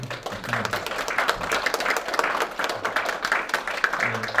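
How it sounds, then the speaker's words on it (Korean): Clapping from an audience at a Korean Won Buddhist dharma title conferral ceremony, moderately loud and fairly even, with distinct individual claps mixed in and a voice faintly audible underneath. "조은영 교도님을 앞으로 모시겠습니다. 큰 박수로"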